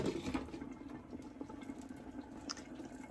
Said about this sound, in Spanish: Así es como sigue cociéndose nuestro arroz.